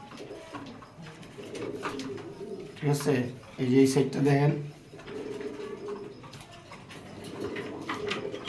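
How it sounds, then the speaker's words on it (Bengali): Racing pigeon from a club race coos softly in a few low, throaty bursts near the middle while someone talks close by over faint background noise. "এই যে দর্শক কবুতরটা দেখেন একটু"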